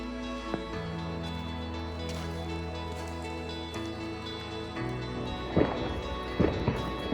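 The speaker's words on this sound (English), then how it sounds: "As you can hear in the background, all the fireworks going off" Distant New Year fireworks thump and crackle in a few scattered bursts over a steady droning background beside a backyard wildlife pond, growing more frequent toward the end.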